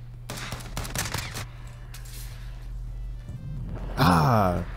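AS Val rifle in Call of Duty Modern Warfare, with several quick bursts of suppressed gunfire amid game sounds and a louder burst near the end, over a low steady game hum.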